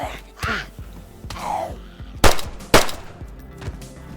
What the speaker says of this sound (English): It's the weakest 9mm pistol and does only a little bit more damage than the IJ and MK2